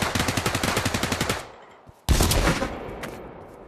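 Rapid automatic rifle fire in the VR shooter Pavlov, a close burst of evenly spaced shots lasting over a second, a brief lull, then another loud, sustained stretch of gunfire with a single sharp report near the end.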